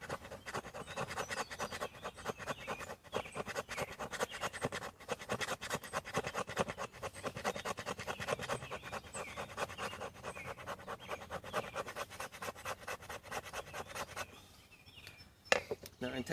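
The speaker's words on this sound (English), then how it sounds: "rubbing it and keep rubbing it and just file it down with my knife" A knife files and scrapes shavings off a piece of wet wood in steady, rapid rasping strokes, close and continuous, with a brief pause and a few sharper scrapes near the end.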